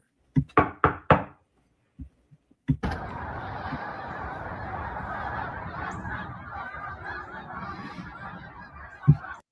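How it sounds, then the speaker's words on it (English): A flock of birds honks like geese, starting with a few sharp knocks and honks. A dense, sustained wash of overlapping honking and calls follows, fairly loud and close, with a final louder honk near the end. "You talk about a flock of birds."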